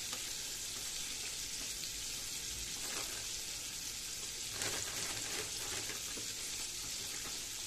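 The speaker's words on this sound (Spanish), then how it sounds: "Pescadito frito está bueno ahora" Small fish fry in a pan, a soft, continuous hiss of bubbling oil heard up close but faint, with slight swells in intensity and no talking.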